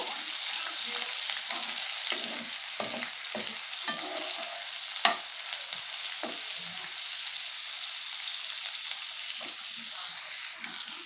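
Onions fry in oil in a pan, giving a loud, continuous, close sizzle over eleven seconds, with occasional soft scrapes from stirring and no talking.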